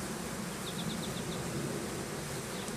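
Honey bees buzzing as they are hived from a box, a dense steady drone close by with a few short higher chirps briefly standing out, no talking.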